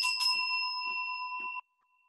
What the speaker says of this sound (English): It's just to clear the space energetically with the little bell here.